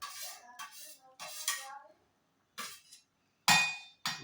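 Utensils clinking and scraping against a pot while coriander, tamarind, salt and chili powder are stirred together for chutney, in short separate bursts with quiet gaps between.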